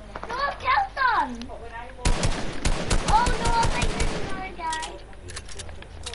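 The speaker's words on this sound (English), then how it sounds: "Yeah, they're shooting at you." Rapid video game gunfire rattles in bursts of automatic shots as enemies open fire, loud and close, while excited young voices talk over it before and after.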